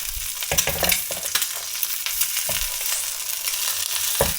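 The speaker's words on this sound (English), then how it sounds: "Sometimes just spoon a little of that hot fat over the little bits of white that are still a little mucusy." An egg fries in hot fat for kimchi and smoked brisket fried rice, with a steady close sizzle and spitting pops, punctuated by a few scraping spoon strokes, no voices.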